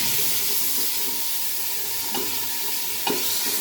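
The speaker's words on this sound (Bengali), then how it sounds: "এবার পেঁয়াজটা একটু লাল করে ভেজে নিব" Onions fry in oil for chicken biryani with a steady, close hissing sizzle, broken by a couple of sharp stirring scrapes.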